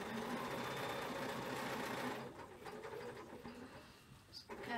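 A sewing machine fitted with a walking foot stitches thick fabric in a fast, steady whirring run for about two seconds, then stops, leaving faint room noise and soft handling sounds.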